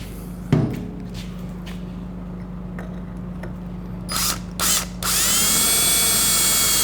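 A sharp knock, then a steady low motor hum, a couple of brief whirs, and finally a power drill with a number 9 bit spins up and runs continuously drilling metal, close and loud.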